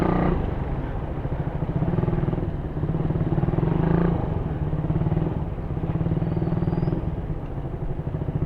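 An old Raider 150 motorcycle engine drones steadily and continuously at close range, a rough, even rumble with no break.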